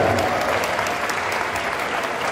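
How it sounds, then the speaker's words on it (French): A church congregation at the Saint Augustin parish in Dschang applauds the new pope during a celebration, with dense, steady clapping filling the space from start to finish. "Est-ce qu'on peut applaudir pour le nouveau pape?"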